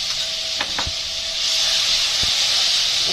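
Ginger-garlic paste hitting hot oil with cumin seeds, a steady broad hiss of sizzling that swells louder midway, with a few soft clicks of a spoon against the pan, no voices.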